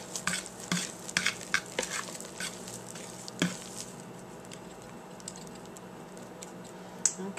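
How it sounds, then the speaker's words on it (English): A spoon folds quinoa blueberry pancake batter in a bowl, making soft wet clicks and scrapes in an uneven rhythm that is busy at first and then thins to occasional taps. The sound is close and quiet, with no talking. "Okay, all folded in together, looking yummy"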